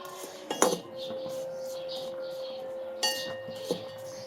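Black salt ingredients are stirred in a bowl with a metal utensil, giving sparse, fairly faint clinks and scrapes, with a sharp clatter near the start and another pair later over a quiet background hum.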